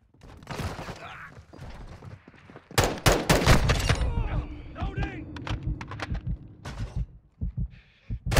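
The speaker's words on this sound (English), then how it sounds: "Throwing flash grenade!" A flash grenade goes off in Call of Duty: Modern Warfare II with a loud burst and a wash of ringing noise amid scattered gunfire and in-game voices calling out.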